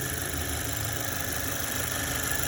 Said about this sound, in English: the fuel injectors spitting the fuel into the system, hence direct injection.